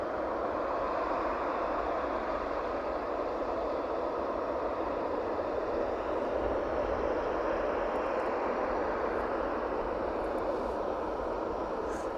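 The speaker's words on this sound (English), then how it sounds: "Right hand turn then as it makes its way onto the taxiway." An airliner taxiing onto the taxiway at East Midlands Airport, a steady broadband engine rumble and hiss holding evenly throughout at moderate distance, with no talk.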